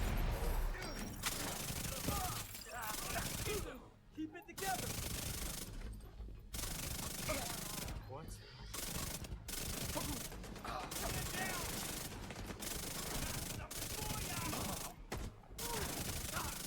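Chatterbox SMG gunfire in The Division 2 crackles in rapid sustained bursts separated by short pauses, loud and close, with a few brief silent gaps between strings of shots.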